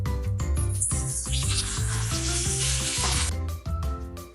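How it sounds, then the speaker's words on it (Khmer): Boiled three-layer pork belly hits a hot pan with a loud, bright sizzle that swells for about three seconds, then settles into a lower crackle with a few soft scrapes. "បងយកសាច់3ជាន់ដែលស្ងោររួចយកមកចៀនឲ្យបានគ្រីមល្អ"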